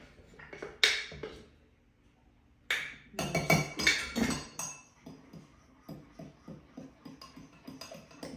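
Metal fork clinking against a bowl while blending cinnamon roll icing, with a few louder scraping bursts early on, then a steady run of light, rhythmic taps close by.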